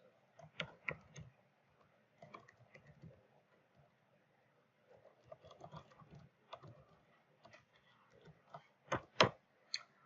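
Soft mouse clicks on a computer, coming as scattered single and double taps with quiet gaps between, close and faint, and no talking.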